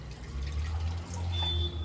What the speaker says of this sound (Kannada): ಇದು ಸ್ವಲ್ಪ ನೀರು ಹಾಕ್ಕೊಂಡು